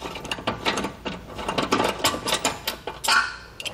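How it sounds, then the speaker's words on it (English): A hand ratchet removes 14 mm bumper beam bolts on a 2020 Honda, making rapid, close, repeated clicking bursts with short pauses between strokes. "So now we can go ahead and remove these last 14 millimeter bolts"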